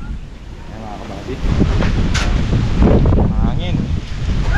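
Strong wind buffeting the microphone outdoors on a farm, a steady loud roar that rises and stays heavy, with faint talk beneath.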